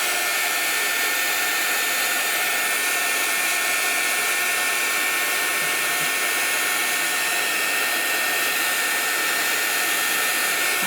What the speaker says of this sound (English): heat gun going on.